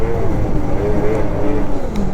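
XRS 600RR sport motorcycle ridden hard, its engine droning loud and continuous at high revs with rising and falling pitch, heavy rumble and wind noise close to the rider.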